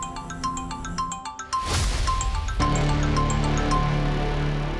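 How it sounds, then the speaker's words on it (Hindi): A mobile phone ringtone plays loudly as a repeating melodic tune of bright tones, with a busy burst of music-like sound joining partway through in a Hindi TV drama scene. "किसका फोन है बेटा?"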